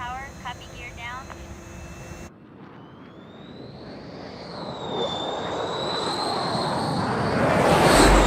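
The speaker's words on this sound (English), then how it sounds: "Otter 1 is cleared to land, runway 21 right." A US Air Force fighter jet comes in to land at Nellis during a Red Flag exercise. A radio voice is heard first, then a rising, whining jet roar that grows steadily louder as the aircraft approaches.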